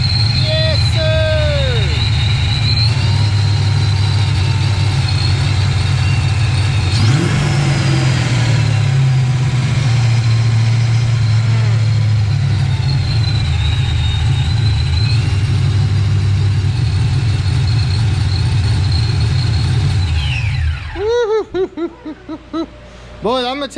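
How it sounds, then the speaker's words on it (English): An old-school supercharged Ford Mustang Foxbody runs loud and close, holding a steady engine roar and revving for about twenty seconds before cutting off sharply near the end. "The noise from the old school superchargers is just fantastic."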